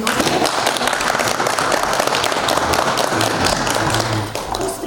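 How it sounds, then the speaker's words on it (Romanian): A room of people clapping at a local council meeting in Romania, applauding council colleagues; steady, dense applause that continues for about five seconds before starting to fade. "Vă rog un rând de aplauze pentru colegii noștri."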